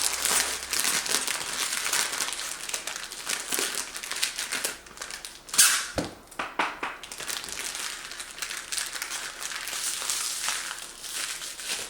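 Packaging crinkled and folded around board game pieces, a near, continuous rustle and crunch with a louder crumple midway and no talking.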